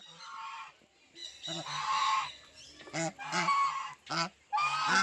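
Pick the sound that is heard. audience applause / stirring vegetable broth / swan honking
swan honking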